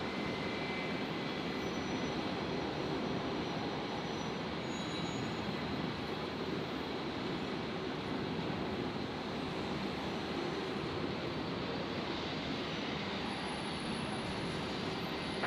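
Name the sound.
airplane at Brisbane airport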